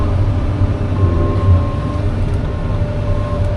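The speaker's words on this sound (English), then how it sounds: "So you can actually see the net wrap spinning and getting fed on there, and then you can actually see it cut too." Round baler wrapping a bale with net wrap, with a loud, steady mechanical rumble and drone that carries on unbroken throughout.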